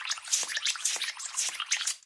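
Water is flushed through an airbrush during cleaning, producing close, repeated sputtering hiss bursts in quick irregular pulses, with no voice over them.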